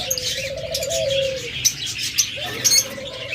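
Caged budgerigars and cockatiels chirping and tweeting close by at a pet bird sale, short sharp calls scattered over a low, drawn-out cooing tone.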